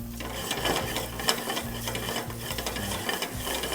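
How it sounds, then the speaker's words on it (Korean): Garlic and onion sauté in a hot pan, a steady low sizzle with soft scraping stirs and faint clicks running throughout, close up with no talking. "자, 마늘을 먼저 볶고, 다음 양파 넣겠습니다."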